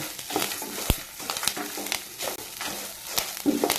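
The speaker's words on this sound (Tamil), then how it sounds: "கருவேப்பிலை நல்லா பச்சை வாசம் போகிற அளவுக்கு நல்லா எண்ணெயிலேயே வறுத்திங்கன்னா" Curry leaves frying in oil for an eggplant and dried fish curry, crackling and sizzling with stirring scrapes and sharp pops close up, no voices.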